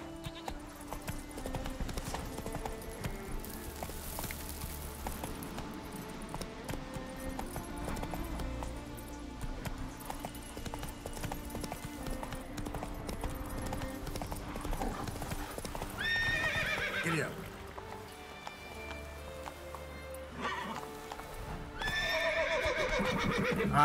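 Roach, a horse in the video game Witcher 3, with steady clip-clopping hooves and whinnying neighs over a game music score, plus a couple of short rising squeals late on.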